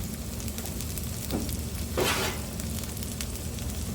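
Bacon sizzles on a hot Blackstone griddle with a steady crackling hiss, broken by a couple of brief louder bursts of spattering near the middle.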